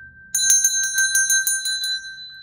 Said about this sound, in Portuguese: o sininho das notificações